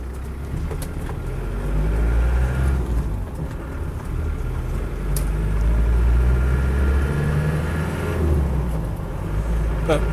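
A Land Rover Defender 110 with a 200Tdi diesel engine runs steadily, a low continuous drone with slight swells in revs, close by with faint background noise.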